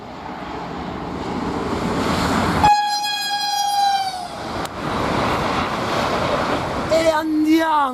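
A high-speed train rushes past at 250 km/h with a loud, steady roar of rushing air and wheels. A sharp horn blast sounds partway through, and a second, bending horn tone comes near the end.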